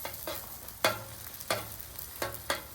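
Eggs frying on a Blackstone griddle, a low steady sizzle broken by several sharp scraping and tapping hits from a spatula at uneven intervals, close by with no talk.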